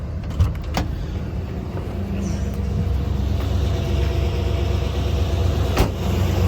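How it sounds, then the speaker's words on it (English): A lifted square-body Chevrolet Suburban 4x4 idles with a low, steady exhaust rumble nearby, a couple of faint clicks and a soft whine passing over the constant drone. "Pull over here so you can hear the exhaust and see it's not smoking."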